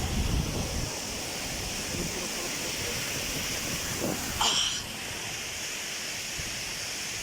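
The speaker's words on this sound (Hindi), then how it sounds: "ये देख पानी नीचे जा रहा है।" Water rushes downstream at a picnic point in Zhob, Balochistan, a loud, steady broadband roar like a waterfall that stays constant throughout, with a brief higher hiss partway through.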